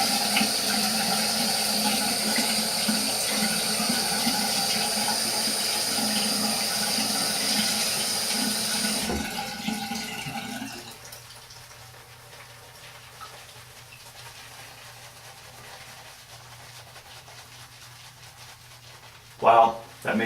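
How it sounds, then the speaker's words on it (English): Water runs steadily from a tap for about nine seconds while it is added to shaving lather. Then the flow stops, leaving a quiet room with faint handling noises and a brief knock at the end. "Add a little bit of water to it."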